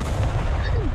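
Artillery in the war strategy game Broken Arrow booms heavily in one short, loud, deep blast.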